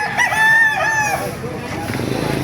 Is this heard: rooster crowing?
yes